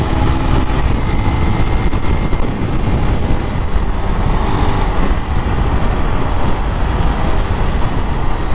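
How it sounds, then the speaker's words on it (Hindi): A used Bajaj Pulsar motorcycle is ridden and accelerated along a road, its engine a loud, steady, rough drone with wind and road noise throughout and no talk. "हल्की फुल्की बाइक को खींच के देख लेते हैं"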